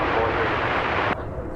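An American Airlines Airbus A321 airliner on flight 685 to Portland at DFW Airport gives off a loud, steady engine roar that cuts off abruptly near the end of the short stretch, with no talk over it.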